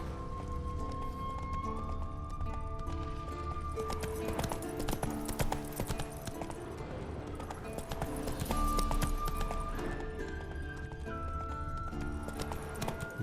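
Roach, a horse in The Witcher 3, gallops with steady, rapid hoofbeats, close and continuous, mixed with a musical score throughout.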